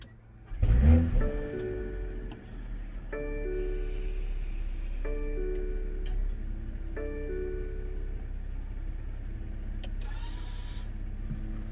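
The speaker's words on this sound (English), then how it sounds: "in order to start the vehicle, put your foot on the brake and hit the center console mounted button to go" A 2021 BMW M440i coupe starting from its console button: a loud starter crank and engine catch with a brief rev, then a steady idle under repeated electronic chimes, heard close inside the cabin without speech.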